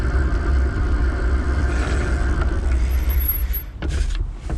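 A Rad Power RadMission e-bike motor works under throttle while climbing a steep hill, giving a steady low rumble with a faint whine, mixed with road and wind noise and a short scrape near the end.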